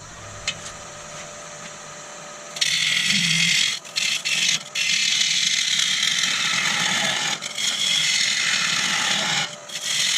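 A woodturning lathe cuts a tenon on an ash bowl blank, with tail support in the chuck, giving a loud continuous scraping rasp of the tool against spinning wood that stops briefly several times, no talking.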